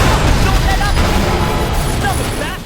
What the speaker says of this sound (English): It's just explosions everywhere